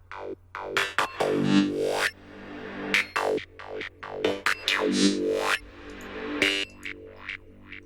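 Psytrance synth lead built in Serum, with delay and a reverb sweep. A bright, gliding lead plays in phrases, with rising and falling pitch sweeps and echoing tails. It is loud and upfront, with no voices.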